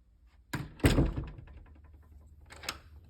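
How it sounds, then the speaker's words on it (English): A door fitted with a door closer swings shut with one heavy, close thunk, followed by light rattling and a second, sharper click as it is locked, with no voices. "I want to lock this door again."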